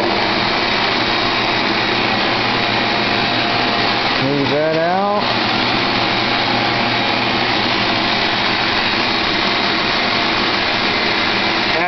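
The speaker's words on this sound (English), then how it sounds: "Turn the vacuum on." A vacuum table holding sheets of base material runs with a steady, loud whining motor drone throughout, while a person speaks briefly midway over the constant hum.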